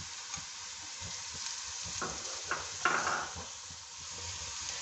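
Ginger garlic paste fries in a pan with a steady, soft sizzle. Scraping stirs and light clinks of a utensil against the pan come through at intervals.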